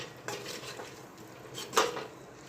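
A spoon scrapes and clinks against a pan as a spice mix with potato chips and coconut is stirred, with soft repeated scraping strokes and one sharper metallic knock near the end.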